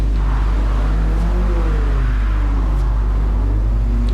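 A 1966 Ford Lotus Cortina engine in a racing game hums and revs steadily, a loud continuous drone with rising and falling pitch and no voices.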